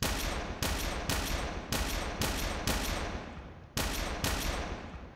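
A gun fires at targets in the VR game Earth Defence Program: Starpath, eight or nine sharp, loud shots spaced irregularly about half a second apart, each with a short decaying tail.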